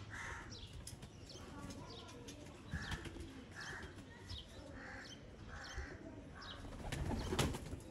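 Sialkoti breeder pigeons coo and flutter softly at a distance, with repeated low coos and occasional wing flaps over faint background noise.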